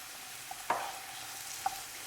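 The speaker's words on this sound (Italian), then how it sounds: "al soffritto aggiungo dei piselli già cotti" Soffritto hisses steadily in a pan as already-cooked peas are tipped in, with a couple of sharp clinks and stirring knocks over the continuous frying sizzle.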